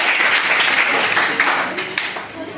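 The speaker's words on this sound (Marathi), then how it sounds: "लावण्यासाठी सगळ्यांनी टाळ्या वाजवायच्या." A school quiz audience claps for a contestant in a burst of dense, fairly loud applause that thins out towards the end, with voices mixed in.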